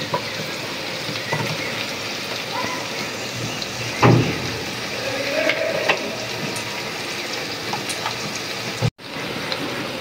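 Oil poured into a hot wok set on a village stove crackles and sizzles in a loose, spattering burst, with a few clunks and one sharper surge midway, heard fairly close with no speech.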